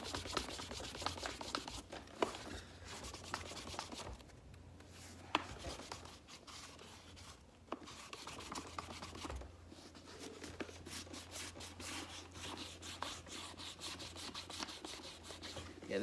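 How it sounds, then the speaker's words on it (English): Soft sandpaper rubs back and forth over a leather shoe in a shoemaking workshop, a quiet, close, scratchy friction sound in repeated strokes with brief pauses and no talk. "It's not really a big deal when it just comes to hitting it with this really soft sandpaper."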